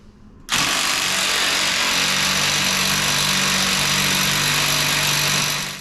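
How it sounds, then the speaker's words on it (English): An older Ryobi impact wrench (rattle gun) removing corroded torque rod bolts, starting abruptly after a brief pause and then running as one loud, steady, continuous whir for about five seconds with no talk. "It's a Roby rattle gun, older model."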